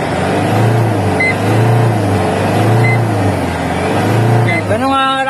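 Hybrid car engine revving as the throttle is pressed, a steady loud drone with rhythmic surges in pitch, rising sharply at the end, with someone talking over it.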